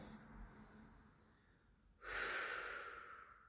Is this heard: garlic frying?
no